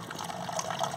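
Small pump pushing water through a narrow hose into a garden pond made from a tub, giving a steady, close, continuous gush and trickle of flowing water with no pauses.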